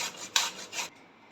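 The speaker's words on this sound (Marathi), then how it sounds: "अशा रीतीनं मी सगळ्या फोडी आहेत कैरीच्या त्या खिसून घेते आहे." Raw mango pieces rasped against a grater in three quick, bright scraping strokes, close and crisp, then a faint quiet tail.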